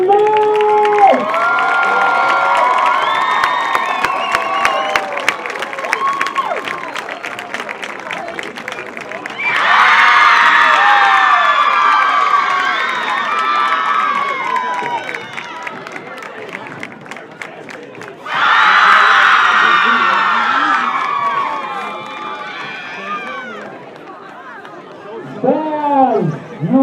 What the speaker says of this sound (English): Ladies and gentlemen, one more huge round of applause for your champion man!